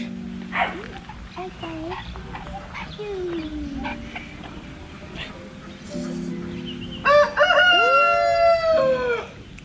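A rooster crows loudly nearby toward the end, a full drawn-out call, after scattered clucks and chicken calls at a home café. People talk and exclaim softly throughout.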